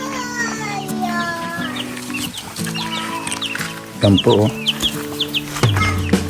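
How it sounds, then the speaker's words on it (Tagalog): Free-roaming chickens, including laying hens, cluck and squawk close by, with a voice and brief speech mixed in among the birds. "Yung mga manok nandiyan nagagala lang."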